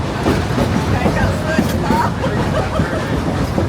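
A train at Dollywood rumbles along the rails on an evening ride with a steady low roar and faint rattling, while people chatter in the background.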